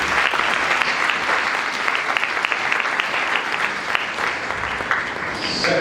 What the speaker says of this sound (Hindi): इन सबके लिए तालियां है।